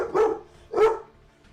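A dog barks twice, close and fairly loud, the two barks about half a second apart, with faint background noise between them.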